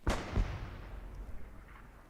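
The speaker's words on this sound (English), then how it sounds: "Strafing run came in." Aircraft strafing run in Hell Let Loose, a World War II shooter: two sharp booming bursts of gunfire in quick succession at the start, then a long rumbling decay that fades into distant battlefield noise.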